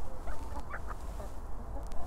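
Chickens and roosters on a free-range chicken farm, a few short clucks and squawks over a dense background murmur of the flock, fairly faint and brief.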